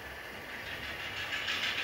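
A model train runs on a home layout with a yard ladder and helix, heard as a steady, fairly faint rolling hum and rumble with soft hiss and no talking.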